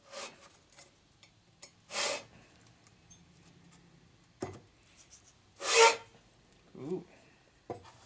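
Several short bursts of rasping, scraping sandpaper strokes on a 1961 Harley-Davidson Panhead engine part, separated by quiet pauses, close by.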